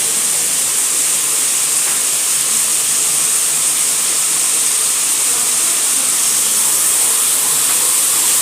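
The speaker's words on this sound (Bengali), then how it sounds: "এবার এটাকে আমি একটু ঢাকা চাপা দিয়ে ভাজবো" Egg and cabbage frying in a covered pan give a loud, continuous sizzling hiss that stays even throughout, with no voices.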